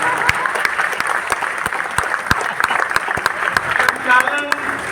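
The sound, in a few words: audience applause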